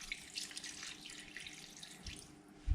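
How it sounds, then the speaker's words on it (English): About 200 ml of water poured from a jug into a pot of healthy chicken curry (Murg Tariwala), a faint, short splashing trickle heard close up, ending in a small thump. "So from here on, I'll add about 200 ml of water."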